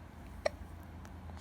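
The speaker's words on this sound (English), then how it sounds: "Hiccups again." A baby gives a single short hiccup, quick and faint over a quiet room background, with nothing else happening around it.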